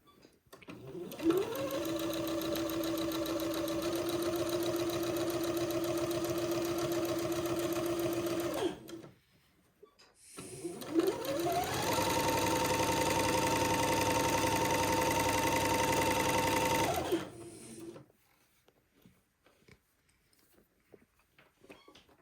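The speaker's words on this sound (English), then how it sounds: "I started sewing from the hem and not from the lace" A sewing machine runs steadily in two long stitching bursts with a short pause between them, sewing a garment seam upward from the hem, its motor whine loud and close before fading to quiet handling sounds.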